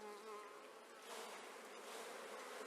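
Honeybees buzz steadily and close during a hive inspection, their dense, continuous drone growing louder as the colony is stirred up while nectar-filled frames are handled; no one talks.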